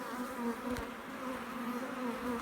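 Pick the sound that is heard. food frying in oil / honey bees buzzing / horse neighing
honey bees buzzing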